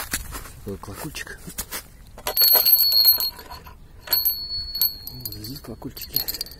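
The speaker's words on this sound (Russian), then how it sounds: "Вот здесь колокольчики." Small bells made from scrap keychain parts and a piece of pipe hang on a homemade "Diana" sling-throwing target and jingle and ring in short bright bursts, mixed with clatter and handling noise.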